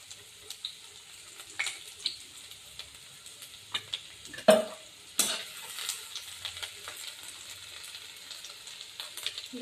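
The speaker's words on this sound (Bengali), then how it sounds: "তেলটা গরম হয়ে গেলে এর মধ্যে দিয়ে দেবো আমি রসুন কুচি" Chopped garlic frying in hot mustard oil in a kadai: a faint, crackly sizzle with scattered pops and spits, a couple of sharper bursts midway, and no voices.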